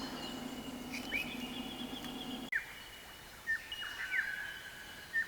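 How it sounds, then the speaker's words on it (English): Several birds call at a bush campsite at Peach Trees, with scattered chirps and short whistled notes, fairly faint against a low background hum that drops away halfway through. "We can hear plenty of different birds here."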